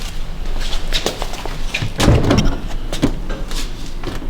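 The door of a Mitsubishi Lancer Evolution X, fitted with new VARIS body parts, shuts with one solid thud midway through, set among lighter clanks and handling noises in a garage.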